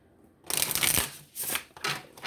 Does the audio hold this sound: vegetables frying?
no